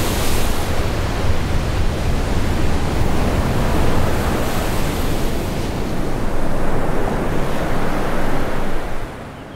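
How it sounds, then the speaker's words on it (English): Storm waves smash on bay beaches in a loud, continuous roar of surf and wind that carries unbroken to the end and then eases slightly. "Raging waves smash against the bay's beaches."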